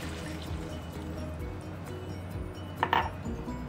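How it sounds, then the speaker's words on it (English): A cup of water poured into a pan of browned pork pieces, a brief splash and trickle near the end over a low steady kitchen hum. "We're now going to add 1 cup of water"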